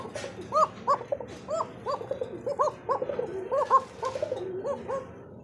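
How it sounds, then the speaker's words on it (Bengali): A racing pigeon from a racing club gives a deep, heavy cooing call, repeated in a steady run of rounded coos close by with no talking. "এটা একটু কোকা ইয়ার মতো ডাক, গোবিন্দের মতো ডাকে, মোটা ডাক"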